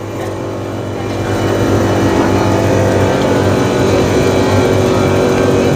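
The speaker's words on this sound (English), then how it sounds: "Look, it's on air. See, look, it's going up." A car at a Cars and Coffee show rises on its air suspension, a steady low whirring hum of the pump that swells after the first second and holds evenly, fairly close and without talk.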